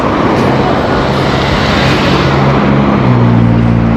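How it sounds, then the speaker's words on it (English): Steady roadside traffic noise at a Jamaican street near a light, a continuous broadband wash of passing cars with low engine hums rising toward the end, fairly loud and close. "Traffic along the road, so you have to wait."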